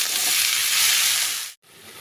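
Water lilies with prawns stirred and frying in a pan, a steady loud sizzle and hiss that cuts off abruptly near the end before resuming.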